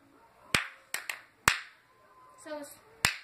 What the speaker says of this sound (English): one clap, two claps